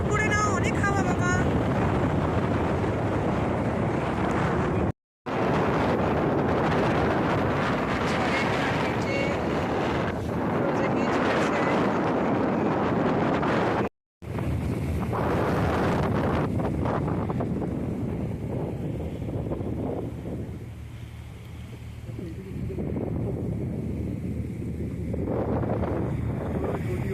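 A cruise boat ride on the sea: strong wind roars across the microphone almost continuously, with a rushing water and engine rumble underneath and two brief cuts, while people talk over it.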